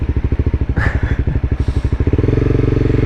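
A motorcycle engine, accidentally kicked down a gear without the clutch, throbs in loud, close, rhythmic pulses, then surges into a faster, smoother, steadier drone.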